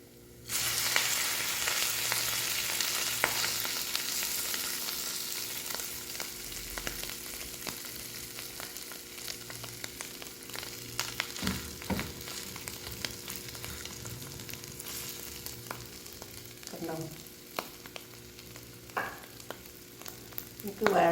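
A tuna sandwich frying in butter in a pan gives a steady soft sizzle throughout, with occasional light scrapes and knocks of utensils against the pan.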